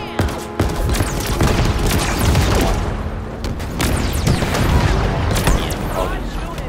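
Rapid gunfire and booming blasts from a Halo Infinite firefight fill the clip: repeated bursts and heavy thuds, loud and dense throughout, with a voice talking over the shooting.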